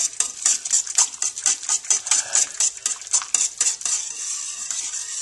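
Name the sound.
whisking roux into stock in a pot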